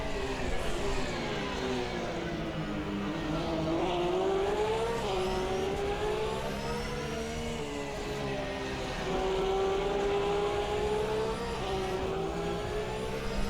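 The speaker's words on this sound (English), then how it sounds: "Short shift there, just to stop the car from sliding around too much" Porsche race car in a racing game, engine droning loud and close with pitch rising through gears and dropping at shifts, steady roar of an on-board lap throughout.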